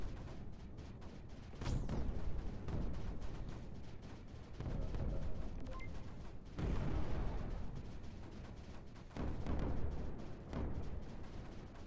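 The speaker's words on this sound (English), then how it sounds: "Snap, crackle, pop for all of these cannons." Cannons firing in the strategy game Creeper World 4, a series of heavy booming blasts and crackling bursts roughly every two to three seconds, each swelling and decaying, fairly loud, with no voices.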